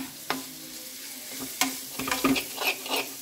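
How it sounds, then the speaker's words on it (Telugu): Food frying in a pan on a stove over a low flame, a soft steady sizzle punctuated by several sharp stirring scrapes and clinks that cluster toward the end, with no talking. "ఇక ఇట్లనే స్టవ్ మీద ఉంటుంది, చిన్న మంట మీద."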